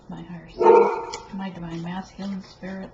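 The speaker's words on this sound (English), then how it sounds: "Excuse the dogs, somebody must be in the backyard." A dog barks once loudly partway through, with quieter yips following, beneath a person speaking steadily in the foreground.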